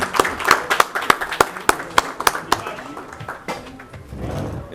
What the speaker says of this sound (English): If all of us could give a big round of applause for both of them